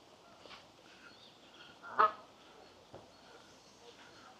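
Geese on a canal towpath give a few faint honks, one louder honk in the middle and softer ones around it, outdoors in an otherwise quiet setting.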